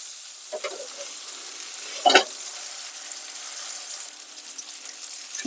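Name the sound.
salmon frying skin-side down in a pan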